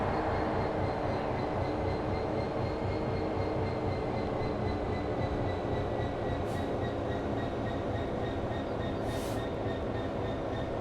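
A Class 158 passenger train passes on the Midland Main Line, a steady rumbling roll of wheels on rails with a faint high whine, heard alone without talk for about ten seconds.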